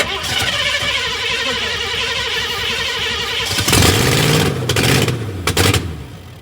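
A Foxbody car engine cranks and briefly fires up, roaring loudly for a couple of seconds, then sputters and cuts off. A short second burst follows, after a stretch of rumbling background noise.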